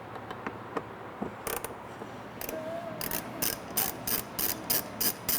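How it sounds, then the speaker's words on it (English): Ratchet wrench clicking as bolts are loosened from a Porsche 991 GT3 interior during audio system removal; short, close bursts of rapid ratcheting clicks, growing into a steady rhythmic series near the end. "All right, so I'm gonna take the bolts out."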